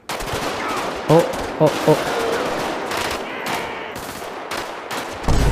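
Bursts of rapid rifle gunfire crackle in a noisy GTA V game soundscape, with a few sharper shots standing out amid continuous background rumble and effects.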